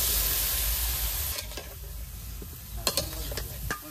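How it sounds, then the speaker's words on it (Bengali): Ground spices with coriander powder and salt being stirred and fried in a pan, a close hissing sizzle that fades, broken by a few sharp scraping stirs. "মশলাটা ভালোভাবে কষে নিচ্ছি।"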